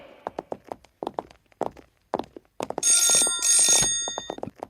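An electronic telephone ring trills twice in quick succession in a movie scene while footsteps and light tapping sounds continue around it.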